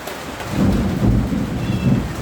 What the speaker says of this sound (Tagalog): Ulan na may kasamang kulog.